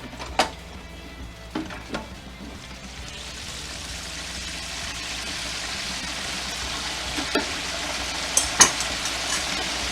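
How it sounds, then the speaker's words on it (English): Chicken frying and sizzling in oil at a steady simmer during a second fry, with a few sharp pops and clinks from a pan or utensil. "you can hear that it's not sizzling as much"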